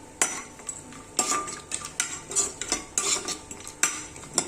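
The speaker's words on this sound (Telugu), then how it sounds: "నెయ్యి వేడెక్కింది కదా, ఇప్పుడు తీసి పెట్టుకున్న జీడిపప్పును వేసి వేయించుకున్నాను." Cashews frying in hot ghee for laddus are stirred in a metal pan, producing a series of sharp clinks and scrapes in an irregular rhythm over a faint sizzle.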